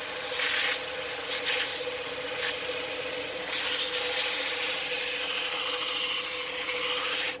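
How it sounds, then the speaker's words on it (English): Sandpaper rubs steadily against a spinning wood-turned piece on a lathe, a continuous close, loud, hissing scratch with slight surges as the pressure shifts, and no talk over it. "I'm just going to give it a quick sanding"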